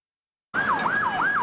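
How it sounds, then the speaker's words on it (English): An ambulance siren starts abruptly and wails in fast, repeating up-and-down sweeps, loud and close, with faint traffic rumble beneath. "some drivers fail to heed and pave way for ambulances on their sirens"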